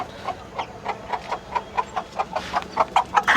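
A native desi hen brooding Chinese duck eggs clucks in a steady series of short, evenly spaced calls, growing slightly louder and quicker toward the end, close by.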